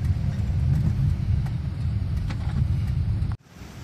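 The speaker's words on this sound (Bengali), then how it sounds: "দেখেন অপোজিট সাইড থেকে গাড়ি আসতেছে, বাইক আসতেছে" Steady low road rumble of cars and bikes going by nearby on a road in Meghalaya, a continuous traffic drone that cuts off abruptly near the end.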